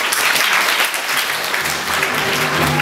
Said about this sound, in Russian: собственно говоря, аплодисменты